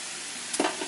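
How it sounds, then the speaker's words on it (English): Beans cooking in a pan get a brief stir for shrimp tostadas, a short scrape and clatter of a spoon over a steady background sizzle. "we're going to go ahead and give our beans a stir"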